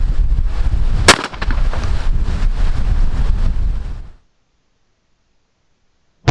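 A shotgun loaded with 3-inch shells, an A400 Extreme Plus testing Rio Royal Bluesteel and Black Cloud loads, fires at a pattern target 30 yards out, one sharp report amid heavy wind buffeting, then silence before another abrupt burst.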